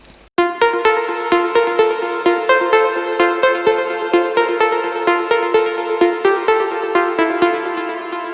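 A bright plucked progressive house/trance synth arpeggio repeats steadily, each note ringing out into a shimmering plate reverb tail, about 30-35% wet, loud and clear with no voices.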